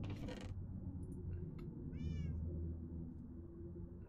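A Minecraft cat gives a single short, clear meow partway through, heard over a low, continuous background hum from the game.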